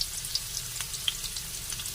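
Onion and garlic fry together in a pan, giving a steady close sizzle with scattered pops and crackles throughout.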